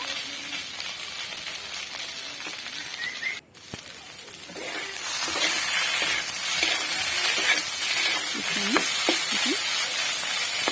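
Snake gourd fried with grated coconut sizzles steadily in a pan. The hiss grows fuller partway through as a spoon stirs, scraping the mixture in short, irregular strokes.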